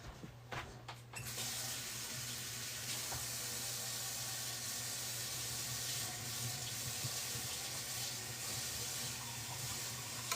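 Tap water runs steadily into a can in a home kitchen, a continuous close hiss and rush that begins abruptly after a brief clatter and holds steady throughout.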